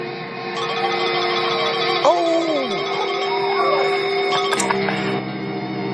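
A melodic electronic phone ringtone plays over background music and sound effects in a Bollywood action movie, with brief higher chimes near the end.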